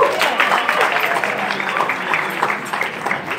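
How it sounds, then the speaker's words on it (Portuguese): Audience applause at the Cariri Cangaço gathering in Fortaleza, a steady dense clapping sustained across the clip at moderate loudness, with some voices mixed in. "Francisco de Assis A.S. também aqui, uma salva de palmas"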